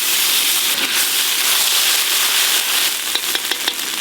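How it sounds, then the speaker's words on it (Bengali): Spices sizzle in hot oil in a kadai for khichuri, with a bright continuous hiss and crackle close up, and a few sharp pops and spatters near the end. "খিচুড়ির মশলা কষার জন্য তেল দিয়ে দেবো কড়াতে"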